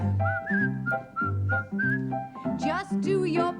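A person whistles a cheerful, bouncy tune in clear, sustained notes over a soft musical backing, with the melody rising into quicker trills toward the end.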